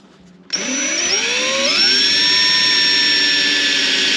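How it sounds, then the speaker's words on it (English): Cordless-style power drill spinning up sharply and boring a hole into an RV kitchen drawer's wood, its whine rising in pitch then holding loud and steady to the end, no talk. "Okay, and we'll drill one over here."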